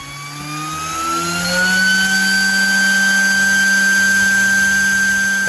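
An open 3018 desktop CNC machine runs without an enclosure, its spindle giving a steady high-pitched whine that rises in pitch over the first second and a half, then holds loud and constant.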